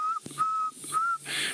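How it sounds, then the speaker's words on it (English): Barred owlet calling at night on safari, a few clear whistled notes repeated in short phrases, fairly faint and alone. "we did also hear another little nocturnal bird calling there"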